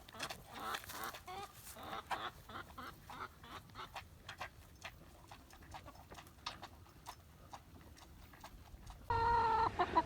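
Quiet clucking and scratching of chickens with sharp pecking taps throughout, then a louder burst of noise near the end.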